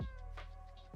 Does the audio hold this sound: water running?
no